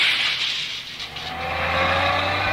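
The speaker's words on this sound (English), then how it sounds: "Huge trucks and honking cars thundered through the streets" A busy city street roars with passing cars and trucks, a dense, steady wash of traffic noise up close, with engine rumble building toward the end. No voices are heard.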